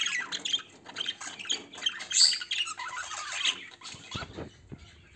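Colourful pet birds, yellow and white among them, squawk and squeak in short shrill bursts close by, with faint rustling and pattering beneath.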